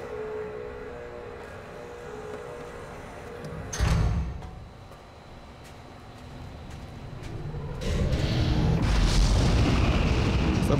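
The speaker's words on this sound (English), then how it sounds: "An explosion?" In the video game Riven, a deep muffled boom of an explosion rumbles once, followed a few seconds later by a heavy rising roar and rumble, with no talking over it.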